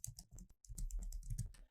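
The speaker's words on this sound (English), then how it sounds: "if I record myself typing in my name, the company name, and the date in these three cells" Typing on a computer keyboard to enter text into spreadsheet cells, a close, quiet run of rapid key clicks with a brief pause before the tapping resumes.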